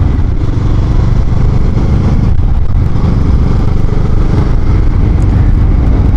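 A 2022 Kawasaki Z650RS motorcycle engine roars steadily throughout, loud and close, with road and wind noise and a brief dip in pitch as if shifting gear.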